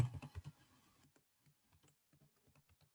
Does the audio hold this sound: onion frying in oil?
no